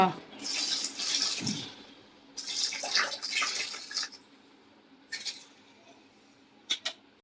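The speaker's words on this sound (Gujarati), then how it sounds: "ત્રણ કિલો ખાંડ લીધી છે એમાં જો પાણી નાખી ચાણી લઈ છે" Water poured onto three kilos of sugar for syrup, splashy bursts of pouring in two main spells and then short trickles, close, with a person talking in between.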